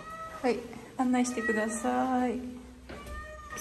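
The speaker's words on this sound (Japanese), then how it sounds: "猫が鳴いとる。" A cat meows several times nearby in drawn-out, wavering cries, while a person speaks briefly over the calls.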